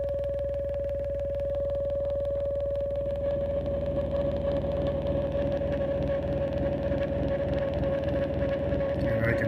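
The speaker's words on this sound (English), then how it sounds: "I can add an effect like delay" Moog Mother-32 synthesizer routed through a Roland MX-1 mixer with delay applied, a steady sustained tone with repeating pulsed patterns and echoing texture, played alone without talk.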